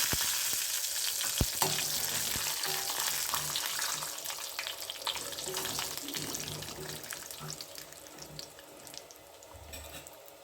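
Cashews and peanuts fry in a pan for a traditional breakfast dish, giving a continuous crackling sizzle with a few stirring clinks, close and moderately loud throughout.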